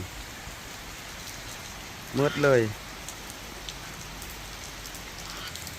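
Steady rain falls during the rainy season, a constant even hiss throughout, with someone briefly speaking once midway.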